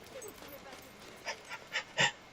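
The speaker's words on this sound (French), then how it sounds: "Oh, le chien." A dog in the video game Fable II pants and whimpers in a few short, breathy bursts that grow louder toward the end, over quiet game ambience.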